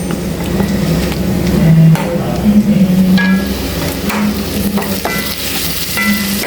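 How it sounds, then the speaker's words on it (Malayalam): Onion sautés in a pan with blended ground paste, giving a continuous close sizzle broken by scraping and knocking of a utensil against the pan, with a faint hum underneath. "ഉള്ളി അവിടെ വഴറ്റി എടുക്കുന്നുണ്ട്"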